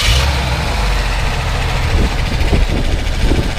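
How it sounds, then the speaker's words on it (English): A 1966 Ford F250 Custom Cab truck engine settles into a steady, loud idle right after starting, a continuous low rumble heard close up with slight unevenness toward the end and no voices. "So, why don't we go ahead and start it up."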